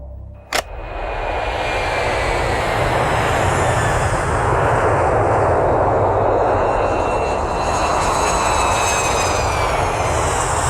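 A fixed-wing aircraft roars past after a sharp click, its engine swelling into a loud, sustained drone that fills the scene as a film sound effect.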